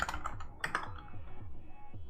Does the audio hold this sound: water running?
no